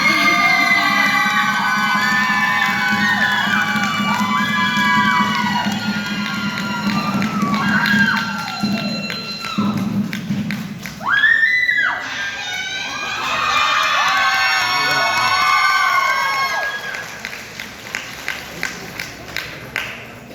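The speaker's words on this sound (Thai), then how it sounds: "ป้าเชียร์เสียงดัง" A talent show crowd cheering and shouting loudly, an auntie's voice among them, with whoops and children's shouts, then a run of claps as the cheering dies down.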